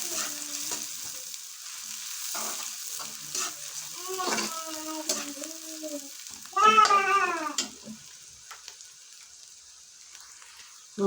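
Onions browning in a pan for beef nihari, with a soft background sizzle and scattered scraping strokes as they are stirred, while a cat meows several times nearby and a loud yowl cuts through in the middle.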